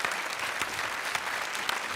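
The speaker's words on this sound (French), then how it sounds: "sous les applaudissements du public" Studio audience applause on a French television game show, a dense, steady wash of many hands clapping at close range, sustained evenly throughout.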